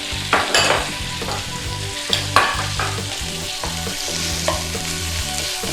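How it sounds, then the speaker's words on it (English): Beef sizzles and fries steadily in a hot pan for Thai pad kra pao, with repeated scraping stirs and clinks of a utensil against the pan over a constant loud sizzle. "And start cooking down your beef."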